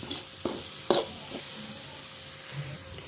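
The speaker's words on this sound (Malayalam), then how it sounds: "എല്ലാം കൂടി നമുക്ക് നന്നായിട്ടൊന്ന് ഇളക്കി യോജിപ്പിക്കാം." Macaroni being stirred in a pan with chilli, turmeric and garam masala powders, soft scraping strokes and a few sharper knocks over a steady low sizzle, close up with no talk.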